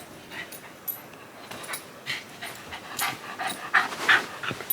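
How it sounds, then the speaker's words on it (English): Dog eager for a walk, panting rapidly and letting out soft whimpers close by, steady and breathy throughout with no talking. "there's a certain dog over there"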